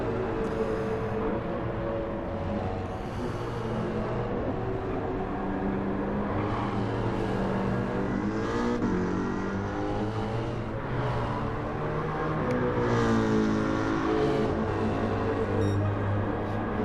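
V8 Supercar race engines in Gran Turismo 7 on a wet Suzuka circuit give a loud, continuous drone, with the pitch rising and falling through gear changes and no voices.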